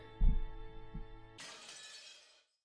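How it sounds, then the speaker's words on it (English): Transition effect from the Umineko visual novel: a sustained musical drone carries a sharp low thump, then a bright, crashing burst of breaking glass that rings out and fades, with a gunshot-like hit in the mix. "Glass breaking and a gunshot sound or something."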